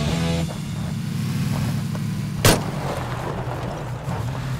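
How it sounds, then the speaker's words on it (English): One sharp gunshot cracks out midway in PUBG, loud and brief, over the steady drone of a running vehicle engine. "Someone with a gun shooting at us."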